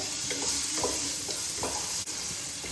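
Spices with black salt and ajwain are mixed in a hot pan, with a steady frying hiss underneath repeated soft scraping strokes of the stirring at an even, unhurried rhythm, close up and without talk.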